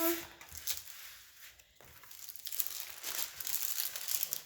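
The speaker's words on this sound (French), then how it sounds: "je vais replacer le plastique pour bien l'aplatir" Thick clear plastic film crinkled and pressed flat over a diamond painting kit, close crackling and rustling in irregular bursts with a brief pause midway, no speech.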